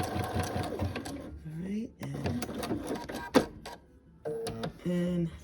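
A sewing machine test-stitches on a zigzag setting at 2.0 by 2.0 while couching decorative yarn onto a quilt, giving close rapid mechanical chattering in bursts broken by short pauses, with someone speaking briefly.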